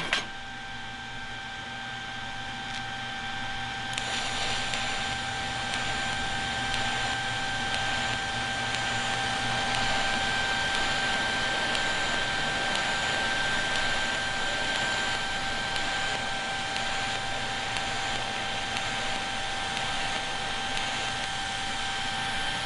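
TIG welding with an ESAB Rogue 200i Pro inverter set to one pulse per second on a metal workpiece, giving a steady close hissing arc buzz with faint tonal whine that holds for over twenty seconds, no talking.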